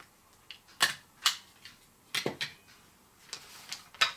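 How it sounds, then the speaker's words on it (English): Foam sheets being stapled together: a series of sharp, close clicks and snaps, roughly eight of them spaced irregularly over a few seconds, against quiet background. "staple these together"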